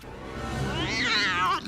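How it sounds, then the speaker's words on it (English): A cartoon cat meow sound effect reused in a cheap animated rip-off film, a single drawn-out, rising and wavering meow that swells and then cuts off, heard alone and fairly close. "get used to that same cat soundbite as well"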